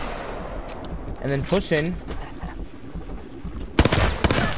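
Rapid bursts of Hemlock rifle gunfire in a first-person shooter video game, several sharp cracks clustered near the end, with a voice talking over the action.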